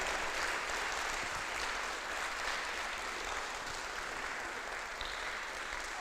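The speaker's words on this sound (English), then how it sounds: "can we give them a round of applause?" Steady applause from a conference audience at a physical education event, dense and continuous clapping filling the hall without a break.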